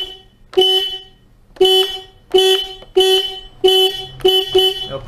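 A faulty horn on a Honda Lead 110 scooter sounds six short, loud, close honks at a steady rhythm, each a flat buzzing tone with quiet gaps between, with no talk over it.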